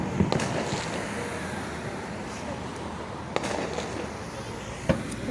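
Independence Day fireworks burst over Washington DC, distant booms and sharp pops rising from a constant crowd murmur, with people talking nearby.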